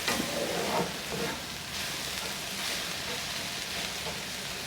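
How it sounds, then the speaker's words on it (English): Sliced jalapeno and spices stir and toast in a hot pan for a tofu scramble, giving a soft, steady sizzle with light scraping from the stirring, close and fairly quiet, with no talk. "we'll just stir that in, let that toast up for a minute just till you can kind of start to smell the spice of the jalapeno come out"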